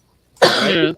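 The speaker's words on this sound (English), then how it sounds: "It was a cough." A single close, loud cough bursts out after a short silence, rough and breathy with a slightly throat-clearing quality, lasting about half a second.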